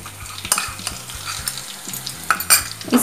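Green chillies and turmeric powder frying in oil, with close spoon-stirring scrapes and taps over a low sizzle, a few sharper knocks toward the end.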